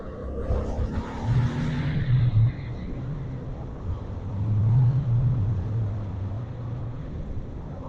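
Car passing a truck on an open road trip route, a steady low engine and road rumble with wind buffeting that swells in the middle as the vehicles draw alongside.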